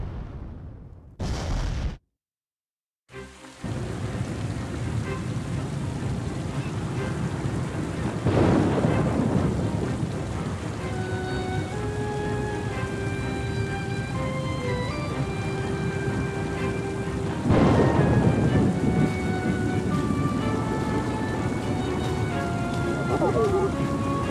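A thunderstorm with rain in the intro of Oceanhorn 2: Knights of the Lost Realm, with heavy, steady rain throughout and two loud rolls of thunder breaking through, with faint sustained tones underneath.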